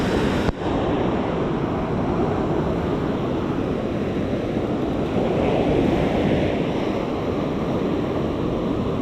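Ocean surf on a Florida beach roars steadily and loudly, with breaking waves and wind buffeting the microphone throughout and no voices.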